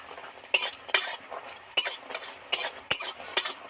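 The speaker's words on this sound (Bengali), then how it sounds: "সবার আগে বড়িটা ভেজে নেব বন্ধুরা, মুসুর খেসারির ডালের বড়ি" Dried lentil badi made from masoor and khesari dal fry in oil in a pan, with a sharp scrape of a metal spatula against the pan about every half second over a faint sizzle, close up and with no talk.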